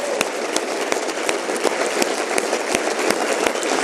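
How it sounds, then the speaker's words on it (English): A live audience applauds a speaker at a pitch-training talk, with steady dense clapping and sharp individual claps standing out throughout. "I want to give a big round of applause to Davey and to his sister Cindy"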